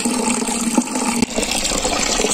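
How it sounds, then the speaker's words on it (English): Cold spring water from a forest water source runs steadily from a tap or spout and splashes while hands are washed, a close, continuous gushing flow with brief splashy bursts and no talk. "So I just washed my hands."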